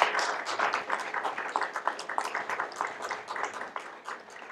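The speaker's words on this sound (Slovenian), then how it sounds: "kar je tudi potrdil tale topov in iskren aplavz" An audience applauds at a European evening event in Slovenia honoring an MEP, a dense, steady patter of many hands that fills the whole stretch at moderate loudness without a break.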